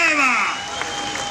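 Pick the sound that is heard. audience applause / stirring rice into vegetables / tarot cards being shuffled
audience applause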